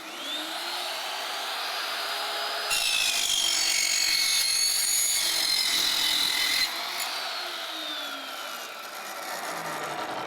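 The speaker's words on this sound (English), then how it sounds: "Let's fire up the saw, make a straight cut" Power saw with a carbide blade makes a straight cut: the motor whines up to a steady high spin, a harsher cutting roar takes over for about four seconds, then the motor winds down.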